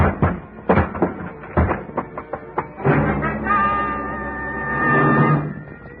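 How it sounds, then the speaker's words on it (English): A door in an apartment house is forced open with a shoulder: a series of heavy thuds and knocks, then a creaking, scraping strain as it gives way, close and loud. "I put my shoulder to work on the door."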